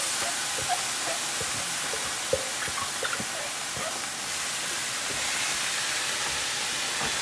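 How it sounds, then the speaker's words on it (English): Chile bean ingredients sauté in a hot pan with a steady hiss and sizzle throughout, broken by a few light clicks and knocks of stirring, close by and without talk. "we're gonna saute this for about 5 minutes"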